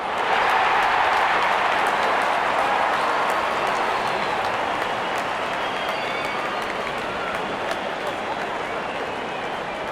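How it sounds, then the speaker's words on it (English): A cricket crowd at an Australia vs Pakistan match cheers and applauds steadily as the openers walk out, a dense roar of many voices and claps holding at a fairly even loudness throughout. "Openers walking in and the crowd cheering in anticipation."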